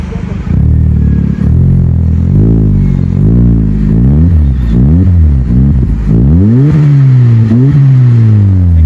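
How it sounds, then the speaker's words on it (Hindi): Modified Changan Alsvin car engine, revved repeatedly in a series of rising and falling blips, very loud and close, with the pitch climbing higher on later revs before settling toward idle. "ओके, स्टार्ट करते हैं इसका, अभी ज़रा साउंड सुनते हैं।"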